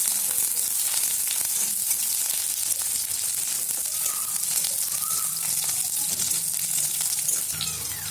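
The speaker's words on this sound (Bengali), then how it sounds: "পেঁয়াজ বাদামি কালার ওয়ালইকে ভাজুমো" Onions fry in a pan for a chicken ghee roast, a loud, steady, dense sizzle that carries on throughout with faint stirring movements, no talking.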